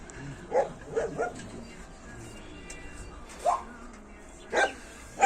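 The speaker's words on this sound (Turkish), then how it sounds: "Chihuahua, Pincher cinsi köpeklerimiz." Chihuahuas and Pinschers bark in short bursts, a few quick yaps early on, then more after a pause, with faint whimpering in the background.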